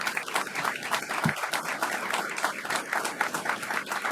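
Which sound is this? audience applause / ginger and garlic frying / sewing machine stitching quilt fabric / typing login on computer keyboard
audience applause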